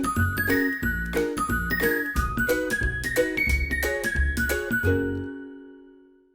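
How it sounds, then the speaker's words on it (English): Bright jingling bell-like tones ring in a busy, overlapping pattern for about five seconds, then decay into silence, heard alone for a Salvation Army Red Kettle campaign kickoff in Torrance. "the bells will be ringing as the popular Red Kettle campaign kicks off"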